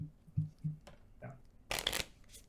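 Cards being shuffled for the Aliens: Bug Hunt board game, a few soft riffles and taps followed by a louder, denser burst of flicking cards near the end, close and fairly quiet with no talking.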